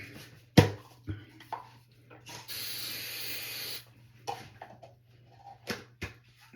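A single sustained aerosol spray hisses for about a second, surrounded by scattered clicks and handling knocks in a quiet room.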